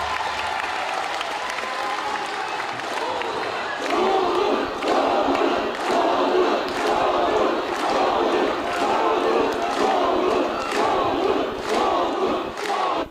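Crowd applause and cheering at a political rally for a speech by Cho Kuk, a steady dense roar of clapping that swells louder partway through and holds, with voices mixed in.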